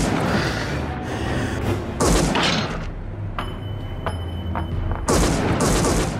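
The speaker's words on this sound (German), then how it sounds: "Schüsse aus der Dunkelheit." Gunshots fired in the dark during a World War I battle scene, sharp cracks in scattered bursts, some loud and close, others fainter, with mechanical clatter and rumble between volleys.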